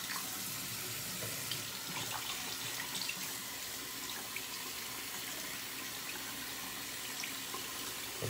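Water runs steadily from a tap into a sink while a razor is rinsed, a continuous soft splashing hiss with small irregular spatters throughout, fairly quiet and close.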